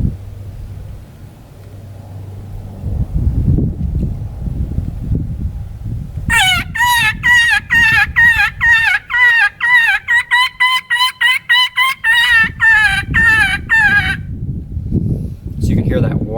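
A hunter blows a mouth call in quick, repeated wailing 'wah' and 'wee' bursts, imitating a distressed rabbit to draw in coyotes. The loud, rhythmic cries run for several seconds and follow a stretch of low rumbling and handling noise.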